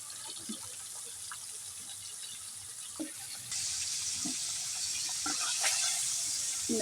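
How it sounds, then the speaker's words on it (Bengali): Fish frying in a pan starts as a faint, quiet crackle, then swells midway into a steady, hissing sizzle with scattered pops, heard close. "মাছগুলো এই যে ভাজে নিব।"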